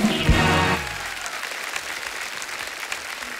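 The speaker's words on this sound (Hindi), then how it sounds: "एक बार जोरदार तालियां हो जाए हमारे तीनों मास्टर शेफ्स के लिए" A television studio audience applauding guest chefs on a comedy talk show, a loud burst of clapping and crowd noise that quickly fades to a softer, scattered patter.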